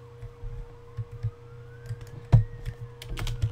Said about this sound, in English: There's like sirens going on outside.